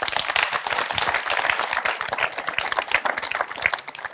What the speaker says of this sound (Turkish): Ümran'a kocaman bir alkış